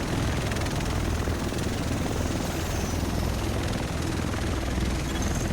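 A game helicopter in a Manhattan-set third-person shooter roars steadily up close, rotor chop and engine drone continuous and loud, with no voices over it.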